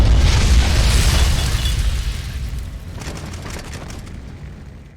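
Chain-reaction explosions in a Fallout video game: a loud, deep booming blast rumbles at the start, then decays into a long, fading roar with scattered crackling debris, no voices.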